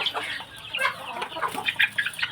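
Several chickens about one month old cluck and peep in quick, uneven bursts, fairly close, with a faint airy background and no talking.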